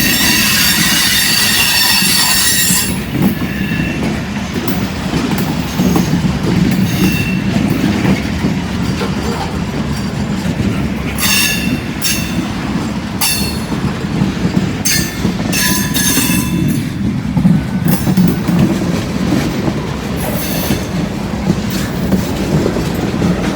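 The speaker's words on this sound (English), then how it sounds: "That's where this train's headed." A train passes close by, its wheels squealing and screeching in repeated high bursts over a loud steady rumble and rhythmic clatter of railcars on the track.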